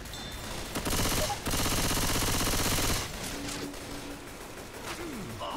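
Rapid automatic gunfire in a zombie video game, a dense, loud burst of rattling shots lasting a couple of seconds, followed by quieter in-game sounds.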